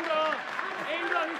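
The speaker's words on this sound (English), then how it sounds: "Cultured crowd giving Ibrahim props for getting to his feet" Crowd at a combat-sports fight applauding as fighter Adil Ibrahim gets back to his feet after being rocked by an uppercut, steady clapping under a commentator's voice.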